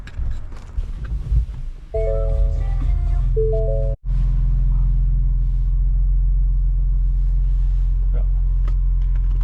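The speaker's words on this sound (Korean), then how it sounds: "시동을 걸었고" A Ford Bronco Raptor fires up and settles into a deep, steady idle rumble after a few electronic chime tones, with a brief dropout partway through; the engine drone continues evenly to the end.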